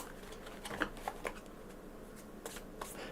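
A small deck of oracle cards is shuffled by hand, a close, papery riffle of quick flicking bursts that comes and goes in short runs, fairly soft and with no talking.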